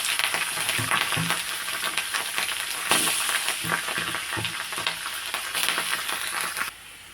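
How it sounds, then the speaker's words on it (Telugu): Mustard and fenugreek seeds splutter and crackle in hot oil for a coconut rice dish, making a steady close sizzle broken by many sharp pops throughout. "చుట్టుపక్కల వేస్తున్నాయి కదా కొద్దిగా ఆవాలు మెంతులు వేసాను"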